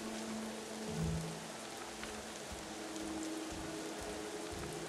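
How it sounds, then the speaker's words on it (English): Steady rain falls in the stealth video game Thief, a constant wash of drops across the whole stretch with faint low tones beneath. "And it's raining."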